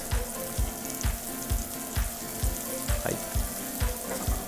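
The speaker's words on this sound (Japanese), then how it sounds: "で、軽く炒めて玉ねぎに火を通していきます。" Thin-sliced onions stir-frying in a wok for a Chinese beef and tomato dish: a loud continuous sizzle punctuated by regular spatula strikes roughly twice a second, close up.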